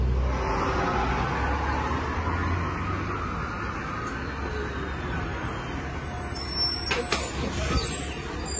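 City bus in Nanning, Guangxi, pulling up at a stop and opening its doors, a low diesel rumble with a brief air-brake hiss and door mechanism sounds near the end amid street traffic.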